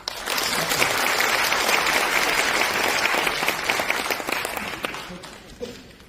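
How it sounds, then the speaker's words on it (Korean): Lecture audience at an insurance talk breaking into sustained applause, a dense, loud spread of many hands clapping that fades off toward the end. "김성준 점장님 다시 한번 큰 박수 부탁드리겠습니다."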